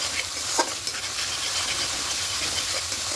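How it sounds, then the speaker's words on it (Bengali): A spice mixture with salt being sautéed in a pan for an egg dish, a steady close sizzle with stirring scrapes throughout and no voices. "এবার একটু ভালো করে কষিয়ে নেব।"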